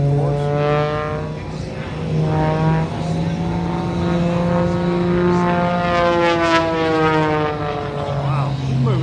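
A small propeller airplane climbing at a military air show at MCAS Cherry Point, its loud droning engine note sliding slowly in pitch as it passes, sustained and close throughout.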